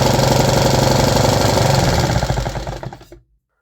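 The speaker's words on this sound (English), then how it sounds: "After heating up, it started idling even higher." A 3D printed engine idles high after warming up, a loud rapid rhythmic chugging close by that runs steadily, then slows and stutters as it winds down to a stop.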